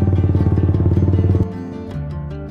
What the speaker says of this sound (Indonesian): suara knalpot kendaraan